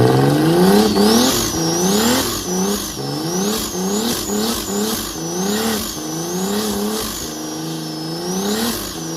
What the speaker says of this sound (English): So now it's time to break in the new turbo